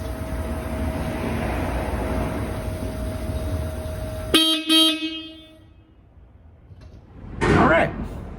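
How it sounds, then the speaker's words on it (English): A Hella SuperTone horn fitted to a BMW i3 blasts two short, bright honks close up, cutting through steady background noise. A brief burst of other noise follows a few seconds later. "will this hella SuperTone sound better than the OEM one?"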